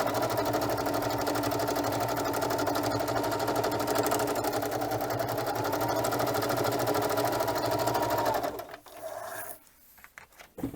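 A sewing machine stitches across the top of a craft piece, whirring loud and steady with a fast, even needle rhythm for about eight seconds before it stops, followed by quieter handling sounds.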